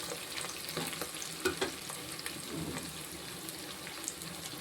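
Cashew nuts fry in a pan for Tamil-style pea pulao, giving a soft continuous sizzle with scattered stirring scrapes and light clinks, fairly quiet and close.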